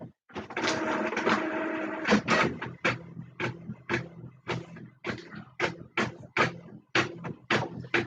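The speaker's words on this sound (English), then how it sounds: "Guys, hear my printer going?" A home printer runs through a print job: a dense mechanical whir at first, then a regular series of sharp clacking strokes about every half second, fairly close and clear.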